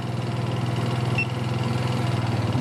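A 180 cc scooter engine idles close by with a steady, rapid low chugging pulse and constant mechanical hum.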